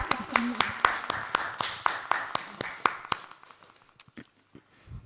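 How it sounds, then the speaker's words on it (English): Steady, evenly spaced hand claps come from a small audience at a live interactive session, about a dozen crisp beats in a row before they thin out into a few scattered taps with faint talk. "Please clap."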